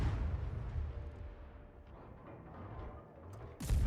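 Destroyer guns in a naval video game firing while the ship sits in smoke: a continuous low rumble of booming shots, with a loud close blast near the end.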